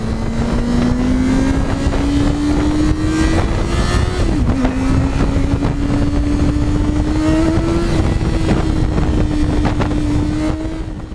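A Yamaha FZ6 motorcycle engine hums continuously while the bike is ridden, its pitch holding fairly steady with small dips and rises, loud and close under wind noise.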